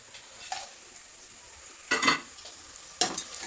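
Whole spices such as cloves, fennel, cardamom, bay leaf, mace and shahi jeera frying in oil for coconut milk biryani, with a faint hiss and three sharp spatula scrapes against the pan.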